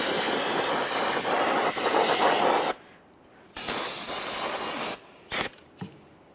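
Parts cleaner sprayed onto the rear brake backing plate of a 2014-2019 Toyota Corolla, a loud continuous aerosol hiss for nearly three seconds, then a pause and several shorter bursts.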